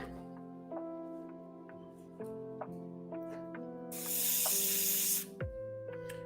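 An airbrush sprays paint onto armor in a steady broadband hiss for about a second and a half, standing out loudly over a background of tonal music.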